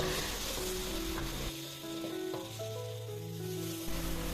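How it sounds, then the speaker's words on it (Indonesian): Steady, crackling sizzle of spice paste sautéing in hot oil, continuous and close, with a faint low hum underneath. "Untuk bumbunya kita tumis-tumis terlebih dahulu."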